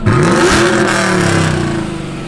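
A 2018 Chevrolet Silverado with a Whipple 2.9-liter supercharger, long-tube headers and catalytic converters revs hard up close, its loud engine note sweeping upward, then holding a steady growl before easing slightly.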